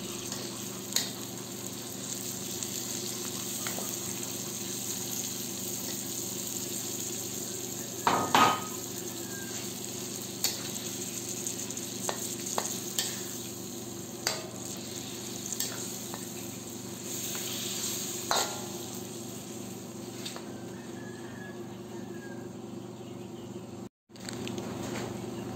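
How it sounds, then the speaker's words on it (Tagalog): Pork binagoongan with eggplant sautés in a pan, giving a steady, fairly quiet sizzle throughout, broken by occasional light scrapes and taps of a utensil against the pan. "Ayan, gisayin lang natin yan ng 2 hanggang 3 minuto."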